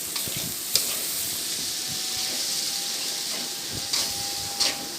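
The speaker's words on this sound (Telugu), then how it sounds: "మిక్స్ చేసిన మసాలా వేసి కాస్త వేయించుకోవాలన్నమాట" A ground spice masala of onion, ginger, garlic and coconut fries in oil, giving a steady close hiss and sizzle with a few brief scraping stirs, no talking.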